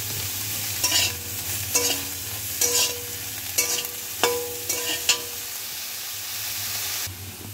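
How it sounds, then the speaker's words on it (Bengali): Eggplant slices fry in mustard oil in a wok with a little salt. A steady sizzle runs throughout, with several stir or scrape bursts spaced about a second apart, close up and with no voices. "এবার বেগুনগুলো ভেজে নেব। বেগুন ভাজবার সময় আমি এর মধ্যে দিয়ে দিচ্ছি অল্প একটু নুন।"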